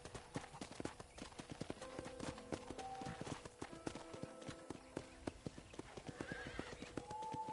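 A horse in the Red Dead Redemption video game on PS3 trots with steady rhythmic hoof clip-clops, broken by a couple of short whinnies, all fairly close and continuous.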